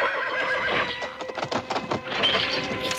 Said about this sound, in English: The horse is shaking it loose.